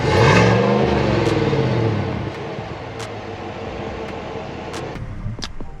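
GMC Sierra SLT pickup with a 5.3-liter V8 engine revving up against its 4,000 RPM soft limiter, loud and close, the rising roar then dropping back to a steady idle drone.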